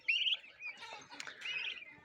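Soft, high chirps and peeps from chicks and turkey poults penned together, a few overlapping calls close by, quiet and continuous.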